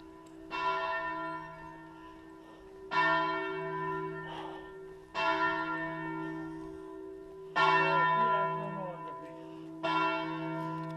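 Church bell tolling in a small village square, five loud strikes spaced about two seconds apart, each ringing on with a long humming decay, near and clear, with no talk over it.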